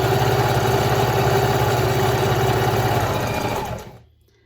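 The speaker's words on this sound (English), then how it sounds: "another option you have is to use a stretch stitch if you have a stretch stitch on your machine." A home sewing machine runs a stretch stitch on leotard or dance-costume spaghetti strap fabric, its steady mechanical whir filling nearly four seconds before stopping abruptly, with no talking.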